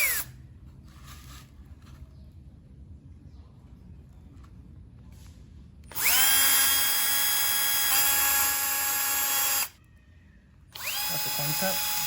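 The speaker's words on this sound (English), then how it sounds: "Next, I'm going to make a 3 mm through hole." A power drill bores a 3 mm through hole in a curved stainless steel bowl, whining loud and steady for a few seconds, stopping briefly, then starting again. Quiet shuffling sounds come before it.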